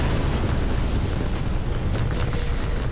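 Strider attack explosions in the video game Half-Life 2: a dense, continuous barrage of booming blasts and rumble filling the whole stretch, loud and close, with sharper bursts cutting through, no talk.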